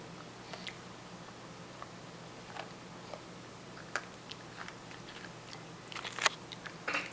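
A child biting and chewing a gingerbread cookie close by, soft crunches and quiet mouth sounds spaced out over a low background, louder bites near the end, no talk.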